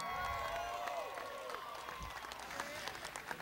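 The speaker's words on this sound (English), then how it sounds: "A big round of applause" Crowd applause and cheering for a celebrity introduction at a race track, a steady wash of clapping heard from a distance, fairly faint.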